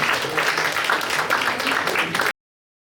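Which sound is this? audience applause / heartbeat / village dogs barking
audience applause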